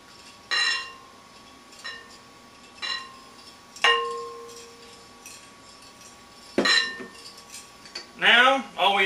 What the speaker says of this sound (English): we need to mix in our melted lard